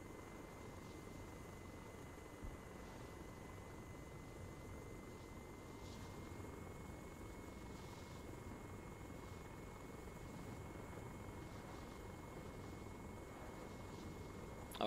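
A helicopter flying overhead, its steady rotor drone continuous and fairly faint throughout with no variation in level.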